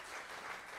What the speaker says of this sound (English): big round of applause for Elaine